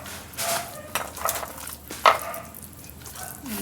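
Stirring tuna ball mixture in a bowl, a few soft scraping clinks and utensil taps spaced irregularly, close and fairly quiet.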